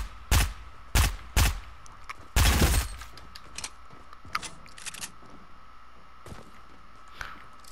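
Gunfire in Fortnite: a few sharp, loud shots close together, then a heavier burst, followed by fainter scattered shots and small impacts at a distance, with no talk.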